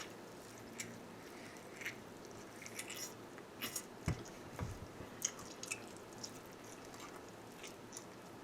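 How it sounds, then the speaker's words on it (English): Wet chewing from a character in a horror short film: soft, sporadic squelches, smacks and drip-like clicks, fairly faint and scattered unevenly, with no one talking. "you still have the sounds and everything of him chewing"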